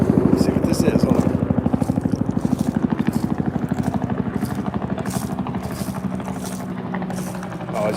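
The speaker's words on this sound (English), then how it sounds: "it's just a helicopter flying really low" Low-flying helicopter with a fast, steady rotor chop, loud and close at first, then gradually fading as it passes.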